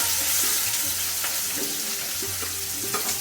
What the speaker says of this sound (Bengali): তেল গরম হয়ে গেছে, এবার পেঁয়াজ কুচি দিয়ে দিচ্ছি।